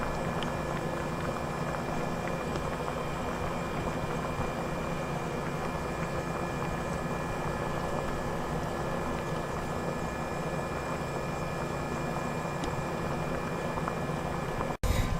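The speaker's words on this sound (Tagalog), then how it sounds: "initin na lang natin pakuluin para bumaba yung tubig" A pot of mung bean stew with chicken and dried shrimp boiling steadily, giving a loud, constant roar of bubbling that runs unbroken almost to the end.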